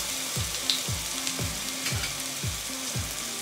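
Ginger, garlic and green chili paste sautéing in a hot pan, a steady loud sizzle and hiss with a regular scraping stir roughly every half second, close up and without speech.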